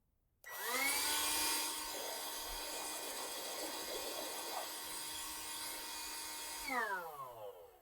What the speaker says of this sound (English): It sucks the air from here. And then it blows the air out of here.